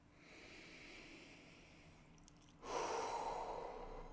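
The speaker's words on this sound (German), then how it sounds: "atme tief ein" Slow, deep inhale during a guided meditation, a soft airy breath drawn close to the microphone in a quiet room, rising after a near-silent pause.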